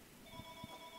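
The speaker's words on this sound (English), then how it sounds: "my phone's ringing right now" Mobile phone ringtone chirping in the background of a flight-simulator session on the Captain Sim 707, a steady electronic tone with two soft low pulses, fairly faint.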